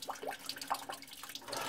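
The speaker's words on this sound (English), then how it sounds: "that's that water coming back through it" Water trickles and gurgles back through a Rusco 1-60ST-F screen sediment trapper plumbing filter, a faint, uneven flow with small splashy bursts, heard close by in a quiet room.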